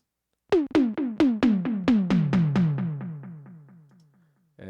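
Drum machine hits from a LinnDrum kit with an eighth-note delay, a dozen sharp repeating strikes in steady rhythm, each echo decaying and fading out before a new hit at the end; close and fairly loud, no talking.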